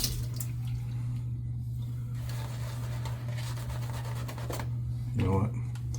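Water runs from a kitchen sink tap and sprayer in a steady broadband rush, with a low hum beneath and a brief louder splash near the end; no speech is audible.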